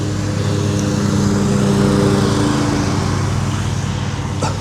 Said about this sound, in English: lawnmowers and everything going